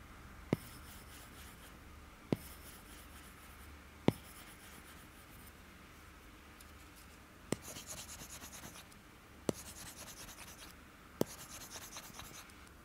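Wacom pen tip dragging across a matte Wacom display's textured glass, a steady close scratchy rasp broken by a few sharp taps as the tip lifts and lands.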